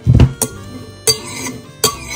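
Red cabbage salad with tomato and coriander being tossed in a bowl: a few sharp clinks and scrapes of a utensil against the bowl ring out separately, close and fairly loud, with soft rustling between them.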